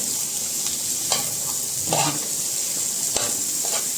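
Colored bell peppers and onion frying in a pan: a steady, loud sizzle throughout, with a few clinks and scrapes of stirring and no talk.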